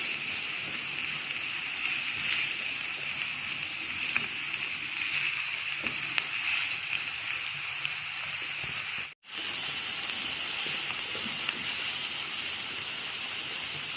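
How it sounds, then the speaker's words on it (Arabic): Onion frying in a mix of ghee and oil in a pan, a steady, even sizzle with a soft crackling hiss that runs continuously, broken only by a momentary gap. "البصله تدبل شويه كده في الزيت، في السمنه"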